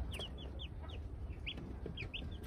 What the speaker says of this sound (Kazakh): Ана Кучинскийлар балапандар жақсы барлығы.